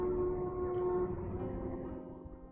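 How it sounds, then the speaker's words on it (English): A loud, sustained rumble of a train passing nearby, with a steady tonal whine riding over heavy low-frequency roar that holds for the whole stretch and eases slightly toward the end. "I was like, what is making that noise? There's no trains around here."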